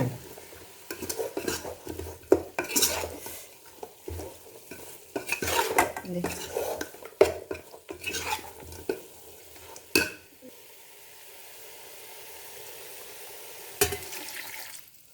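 A spoon scrapes and stirs thick masala in a pan for Mangalore-style chicken sukka, with irregular clanks and a faint sizzle, then quieter frying toward the end.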